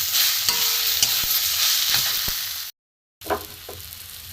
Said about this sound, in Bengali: লঙ্কার গুঁড়ো, জিরের গুঁড়ো, ধনের গুঁড়ো দিয়ে আমি এটাকে ভালো করে কষে নেব।